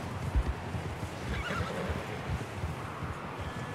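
A horse in the snowy world of Red Dead Redemption 2 gives a few whinnies over a low background of hoof clip-clops and ambient rumble, moderately close, with no speech.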